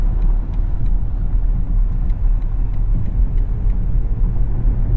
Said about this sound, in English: The XM has plenty of power from its electric-only drivetrain to get you up to highway speed.